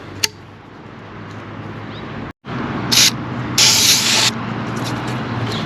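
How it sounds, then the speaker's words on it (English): Silicone spray hisses from an aerosol can onto O-rings during a water pump replacement on a 2018 Chevy Trax 1.4 liter Ecotec, two short close bursts after a brief click, over a steady low hum. "Little silicone spray for the O-rings."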